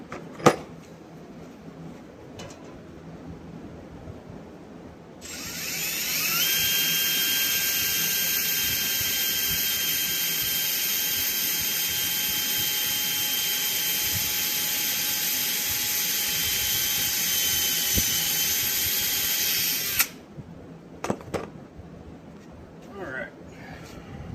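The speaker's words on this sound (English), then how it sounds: "Let's pre-drill the hole" A power drill pre-drilling a hole in wood for a table whirs steadily at high speed for about fifteen seconds, starting and stopping abruptly, with faint clatter before and after.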